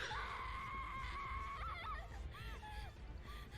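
An anime girl breaks down at the sight of her grandmother's corpse and lets out a crying scream, heard as shrill wavering wails and sobs over a low background.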